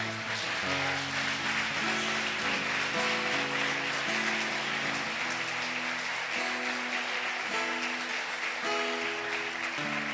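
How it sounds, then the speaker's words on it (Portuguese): A large church congregation applauds steadily and continuously during a Portuguese-language sermon, over sustained musical tones from an organ or keyboard. "Você pode aplaudir a Jesus por isso."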